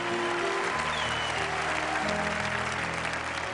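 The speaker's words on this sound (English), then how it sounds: "Just clap your hands and give me a lot of" A crowd at a pastors' leadership gathering claps steadily for the whole stretch. The applause is loud, dense and sustained, with faint tonal sounds beneath it.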